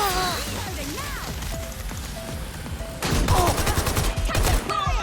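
Rapid gunfire in Watch Dogs Legion, bursts of automatic shots cracking over shouting voices and game sounds, with a louder, denser volley near the end.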